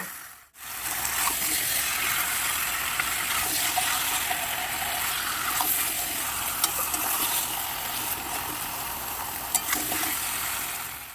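Rice grains being stirred into a pot with salt, spices and ghee for homemade chicken biryani, a steady broadband sizzle and scraping that runs nearly unbroken after a brief pause at the start, fairly close and with no talk.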